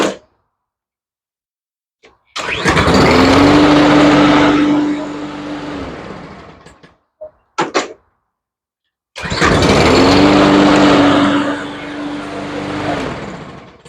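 An all-wheel-drive Husqvarna lawn mower, fitted with a new cable after a no-spark problem, starts and runs up loudly close by. It cuts off, then restarts with another burst of engine roar, and brief clanks and a voice come in between.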